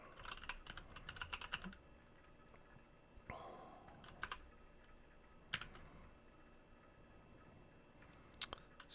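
A computer keyboard typed on in short clattering bursts while writing a simple document, quick close key clicks separated by pauses and a few louder isolated taps.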